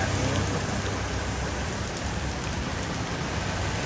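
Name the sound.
heavy rain falling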